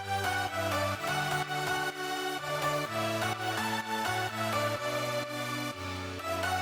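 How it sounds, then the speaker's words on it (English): Layered electronic drop synths from a dance track play a loud, dense, rhythmic chord pattern with punchy repeating stabs across the whole stretch, no voices. "So altogether, the drop synths sound like this."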